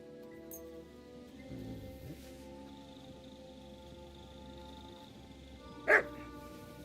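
Mutt, a dog in the video game Kingdom Come Deliverance 2, gives a short sharp bark near the end, heard over steady rain and a low ambient game backdrop.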